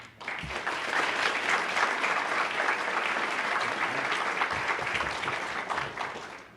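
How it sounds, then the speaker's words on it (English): A graduation audience gives a steady, full round of applause welcoming Colonel Button at a corrections class ceremony, sustained clapping across the whole stretch without letting up. "let's give Colonel Button a warm round of applause for being here"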